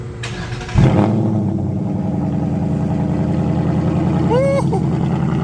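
A 2024 Ford Mustang GT S650 with a new exhaust cranks to life with a sharp bark and settles into a loud, deep, burbling idle close by, and a voice calls out briefly near the end.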